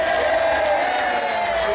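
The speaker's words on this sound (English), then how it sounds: "give Martin a big round of applause" A festival show audience fills the space with a dense, steady wash of clapping and cheering that holds at full strength from start to finish.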